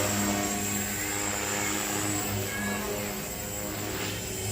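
Oxy 4 RC helicopter spinning in stunt mode at about 70% throttle gives a steady high-pitched rotor and motor whine, close and constant with no talk.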